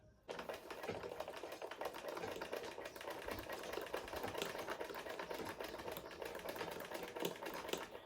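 A sewing machine back stitches Yoruba iro and buba fabric, its steady rapid needle chatter running continuously after a brief start, quiet and close with no voices.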